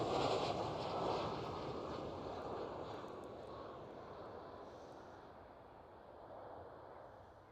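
A KLM Cityhopper Embraer E190 jet at Schiphol Airport in Amsterdam, its engine roar broad and steady at the start, then slowly fading as it moves off into the distance.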